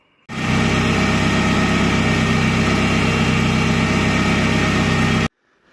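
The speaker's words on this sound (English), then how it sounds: "I'm just going to run the engine up now and make sure I've got no leaks." A Commer van engine, fitted with a Saab turbo engine, starts and runs loudly and steadily for about five seconds, a dense close rumble, then cuts off abruptly.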